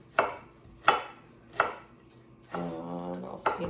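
Ginger root with its skin on is chopped on a board, giving three sharp, evenly spaced knife thunks followed by a brief scraping sound and another chop, close and clear.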